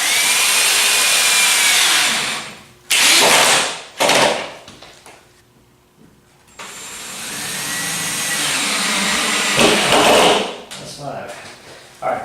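A power drill drives screws into a clamped panel of a DIY retro arcade cabinet in close, loud bursts of whirring separated by short pauses, with a person talking in between.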